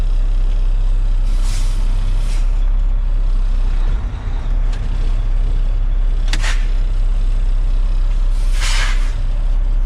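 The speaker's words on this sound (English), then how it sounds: "I release the tractor brake and leave the trailer brake engaged" A truck tractor's air brakes release inside the cab during a pre-trip brake test, sharp pneumatic hisses and pops over a loud, steady diesel idle rumble, several bursts spread across the clip.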